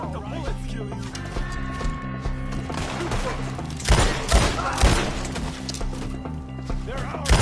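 Dense volleys of gunfire in Red Dead Redemption 2 crackle over a galloping, chaotic battle with music, heaviest in bursts midway, while voices shout throughout.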